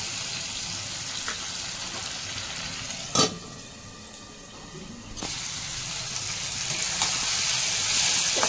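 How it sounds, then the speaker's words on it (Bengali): Fish curry being stir-fried in a pan, with a steady hiss of sizzling broken by a sharp knock of a utensil and a brief dip before the frying noise swells again, loud and close with no voices. "এরকম কষাতে কষাতেই মাছটা আমার রান্না হয়ে যাবে"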